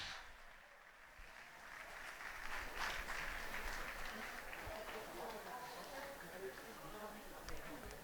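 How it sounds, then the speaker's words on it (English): Faint, distant audience applause at a charity gala, a diffuse crowd clapping that swells and then fades, mixed with murmuring voices and room noise. "can you give yourselves a round of applause?"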